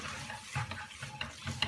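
Beef goulash with tomato paste and browned onions is stirred in a pot, giving quiet scraping strokes and soft sizzling in a brief close-up burst.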